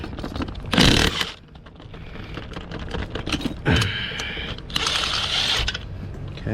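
A swollen Ford lug nut being rocked off by a roadside assistance technician, heard as bursts of ratcheting, clicking metal separated by quieter mechanical rattling, close by.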